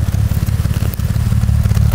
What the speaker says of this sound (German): am Motor hört ihr den Leerlauf